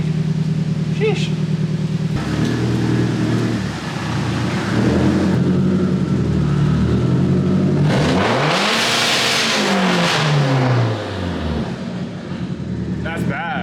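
Car engine with a cut-apart exhaust revving loud and close, rising and falling roars with a harsh raspy drone, a sharp climb and swoop near the middle, voices briefly audible.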